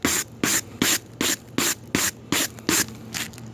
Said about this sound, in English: make sure you scrape it with the brush wire